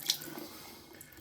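Water running from an opened household tap to relieve plumbing pressure after the supply is shut off, a steady, fairly quiet wash of flow with a brief splash near the start.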